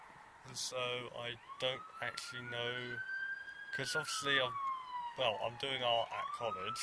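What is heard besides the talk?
siren passing outside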